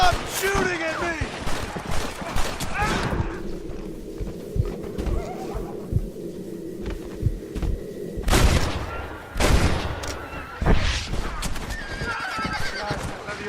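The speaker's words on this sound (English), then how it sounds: "Stop shooting at me!" Gunfire in Red Dead Redemption, scattered shots mixed with a horse whinnying and clip-clopping hooves, with voices talking over much of the scene.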